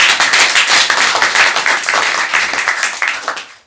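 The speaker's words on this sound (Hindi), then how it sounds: "आप अपने लिए ताली बजाइए।" An audience at a panel discussion and experience-sharing session bursts into steady, dense applause that holds loud and full for several seconds before tapering off at the end.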